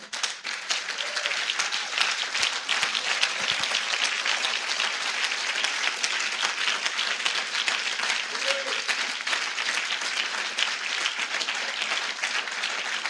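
A church congregation claps and cheers together in praise of God during a Sunday service, a dense, sustained wash of applause that carries steadily from start to finish with a few brief voices rising through it.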